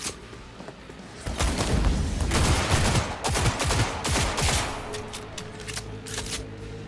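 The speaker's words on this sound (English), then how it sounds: "Hey, don't be shooting at me, baby." Cyberpunk 2077 gunfight in Night City: repeated loud gunshots and sharp cracks in irregular clusters, some heavy thuds among them, continuing through the stretch without voices.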